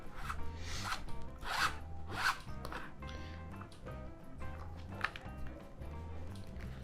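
Waxed thread drawn through punched holes during Coptic stitch bookbinding, giving repeated close rasping rubs and zip-like pulls with a faint musical tone behind.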